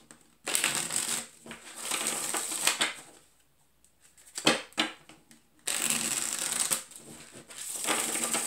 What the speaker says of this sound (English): At the bottom of the deck when I was shuffling